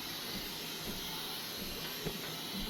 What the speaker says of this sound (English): I'm gonna spray my Baker's Delight